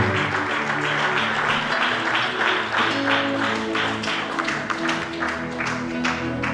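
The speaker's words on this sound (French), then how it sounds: "Pendant qu'il monte, nous acclamons le Seigneur." Congregation at a church service applauding and cheering as the bishop walks up, steady dense clapping mixed with crowd voices and background music throughout.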